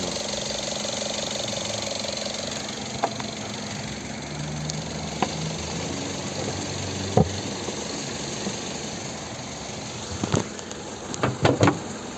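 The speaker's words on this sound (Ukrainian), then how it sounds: "Ось робота двигуна." A 2011 Mazda 5 with a 2.0 petrol engine and automatic gearbox idles steadily at low volume, with a few faint mechanical clicks and taps near the end.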